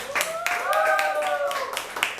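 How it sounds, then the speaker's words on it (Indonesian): A student association talk audience gives brief applause, several hands clapping in a loose rhythm for about two seconds while a voice talks over the clapping. "tepuk tangan buat kita semua ya"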